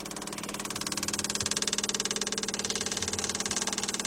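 An electric fuel pump on a 1998-2005 Volkswagen Beetle, Golf or Jetta pumps gasoline out with a steady, rapid pulsing buzz. The sound is close and continuous, with no talk.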